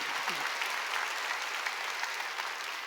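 Korean church congregation clapping at a Wednesday worship service, a dense, continuous wall of applause held at even strength throughout.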